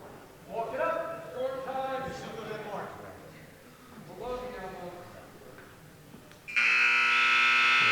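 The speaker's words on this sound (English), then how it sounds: "And there's the buzzer to end the first bout." At a high school varsity wrestling match, commentators talk over the gym until a loud, harsh electronic buzzer blares steadily near the end to close the first bout.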